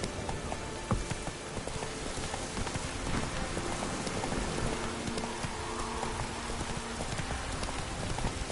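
Roach the horse gallops in The Witcher 3 with rapid, steady hoofbeats thudding under a dense hiss that resembles rain, loud and continuous throughout.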